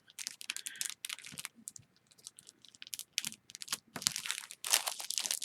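Taped cardboard craft box packaging is torn and ripped open with crinkling and crumpling, close and bursty, in short irregular rips separated by brief pauses.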